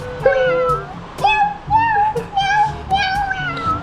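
A voice imitates a cat, giving several drawn-out, wavering meows one after another, close and clear, with short pauses between them.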